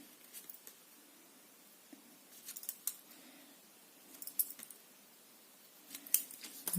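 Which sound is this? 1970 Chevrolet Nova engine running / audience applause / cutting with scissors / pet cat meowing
cutting with scissors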